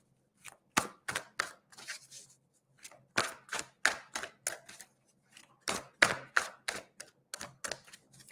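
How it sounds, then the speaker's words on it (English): Crisp, rapid riffling bursts of cards being shuffled for a live reading, repeated in several quick runs with short pauses between, close up and with no talking. "So I'm just giving these a really good shuffle for you"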